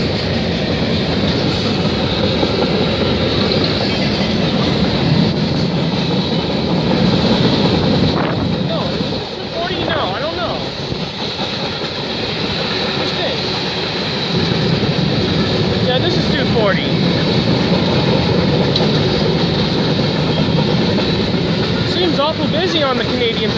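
Eastbound Canadian Pacific freight train rolling past in Milton, Ontario, a loud continuous rumble of wagons with rhythmic wheel clatter and occasional squeals throughout, and a voice talking faintly over it.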